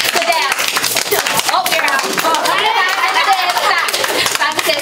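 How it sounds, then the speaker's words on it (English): Children clap their hands while jumping during a Simon Says game, with rapid, uneven claps and taps mixed with constant chatter and talking from the group. "Simon says clap your hands while you jump."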